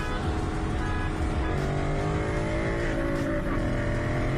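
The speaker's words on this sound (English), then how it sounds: "Turbo sounds really nice." Loud, continuous roar of a revving sports car engine with rising pitch and a turbo whine, close and constant throughout.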